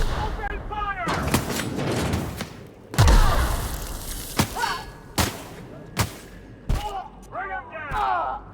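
Gunfire crackles in the video game The Outer Worlds: Spacer's Choice, loud separate shots and short volleys cutting through shouting enemy voices and game chatter.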